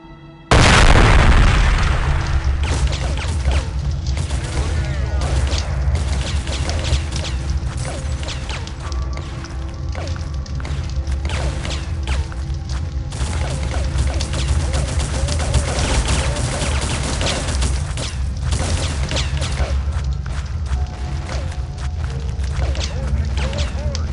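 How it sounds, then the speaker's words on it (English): Sticky bomb detonations and sustained gunfire from the 2001 alpha of the Duke Nukem Forever video game, a loud dense barrage of booms and rapid shots that continues without a break and with no talk over it. "detonate the sticky bombs. Keep shooting until the entire trailer has burned to the ground."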